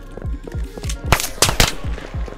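Rapid gunfire in the Roblox-style game Tha Bronx 2, a close, loud burst of evenly spaced shots followed by a few sharper, heavier cracks.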